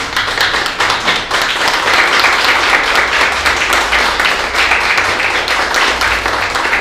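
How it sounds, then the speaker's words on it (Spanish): Sustained applause from a church congregation during a sermon, dense steady clapping that fills the room for several seconds with no voices standing out. "¿Cuánto le pueden regalar un aplauso al Señor en esta hora?"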